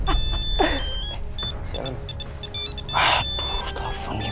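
A phone rings with a repeating electronic melody of bright beeping tones, loud and close, over low background noise.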